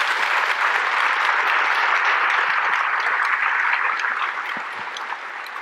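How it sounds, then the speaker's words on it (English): Sustained audience applause closes a distinguished lecture, a thick even wash of many hands clapping that holds strong and then tapers slightly toward the end, with no voices over it. "can we give one more round of applause,"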